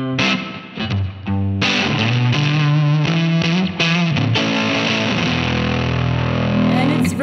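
Distorted electric guitar with effects plays the closing line of a song, a loud, close run of crunchy chords and slides that rings on to the end.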